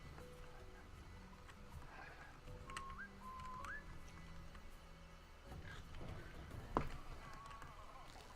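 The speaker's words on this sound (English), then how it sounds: "Oh yeah, whistling." Whistling in the video game Beasts of Maravilla Island: two short rising whistled notes, fairly faint, set against a soft ambient game background with a brief sharp knock near the end.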